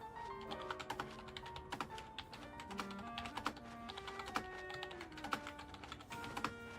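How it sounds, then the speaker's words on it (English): A computer keyboard is typed on in quick, uneven bursts of soft clicks, faint and close, with background music tones running beneath. "you can hear me typing"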